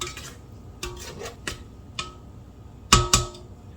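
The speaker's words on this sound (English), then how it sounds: "And I'm going to scrape down the sides." A spatula scraping the sides of a mixing bowl of creamed cookie dough for lemon cooler cookies, heard as a few short, close scrapes and clinks spread across the moment, the last two strongest.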